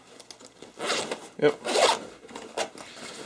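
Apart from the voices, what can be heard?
zipper on a gear bag being opened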